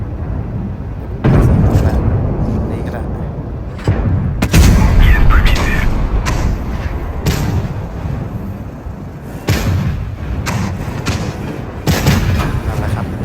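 Tank cannon shots and shell impacts from World of Tanks, with a KV-3 in the battle, boom loudly again and again at irregular intervals, each one a heavy crack over a constant battle rumble, and someone talks in between.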